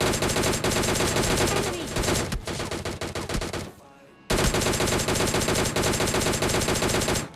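Loud, rapid bursts of S12K shotgun fire in PUBG Mobile Lite, dense repeated blasts with a short gap in the middle, with a brief spoken word.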